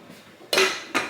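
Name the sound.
pot lid being found and handled among pans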